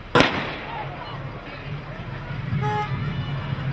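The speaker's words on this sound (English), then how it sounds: "that simulated a controlled explosion" A bomb disposal robot sets off a simulated controlled explosion at an emergency services display, giving one sharp, loud crack near the start. Open-air crowd noise and a distant horn-like tone follow.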